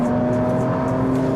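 Ford GT road car engine on throttle, a loud steady droning note with a strong low hum, heard from inside, continuous with no talking.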